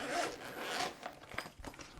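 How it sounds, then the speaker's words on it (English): Zipper on the pouch of a GoLabs 100W solar panel being pulled, two long rasping strokes up close followed by a few shorter tugs. "it's got a zipper pouch"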